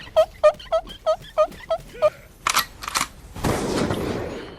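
Gunfire in the Mobile Legends mobile game, heard as a string of quick repeated shots followed by a few louder bursts and a crackling blast, with no talking over it.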